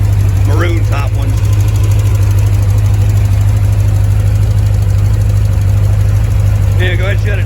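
A supercharged C4 Corvette 5.7 ZZ3 engine with Paxton blower and noisy maroon-top Bosch injectors idles loudly and steadily close by, with a constant low drone throughout and brief voices talking at the start and end.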